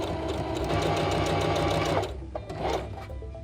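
A sewing machine runs in a steady fast stitching whir while sewing a fabric mask, close and loud, then stops and gives a few short bursts of reverse stitching to lock the seam.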